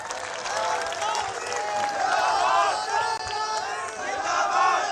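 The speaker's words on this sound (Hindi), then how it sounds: "हम और आप ताली बजा रहे हैं" A large crowd at a political rally outdoors claps and cheers in a dense, continuous wash of sound, with shouting voices mixed throughout.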